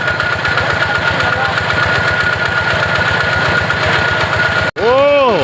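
A small engine-driven water pump drains a fish pond, its engine chugging in a fast, even knocking rhythm close by and loud throughout, briefly cutting out near the end before roaring back with a rising whine.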